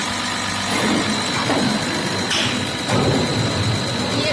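A 12PSB diesel test bench motor starts and keeps rotating as a steady mid-pitched mechanical hum, with a constant high whine and a brief surge near the middle, running continuously throughout.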